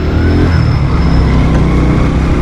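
A motorcycle ridden along a road, its engine a steady continuous drone, loud and close, with no talk over it.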